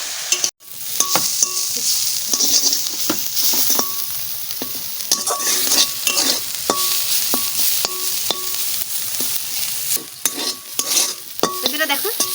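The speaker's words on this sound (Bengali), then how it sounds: "সর্ষের শাক আমার ভাজা হয়ে গেছে" Mustard greens being stirred and fried in oil in a pan, with a steady sizzle broken by regular scraping strokes of a spatula, loud and close, with no voices.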